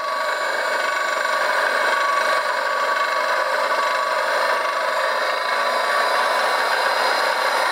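A CMG motor runs with a crunchy, grinding bearing: a steady, close mechanical whine with a rough, gritty texture that holds unbroken for several seconds, with no voices.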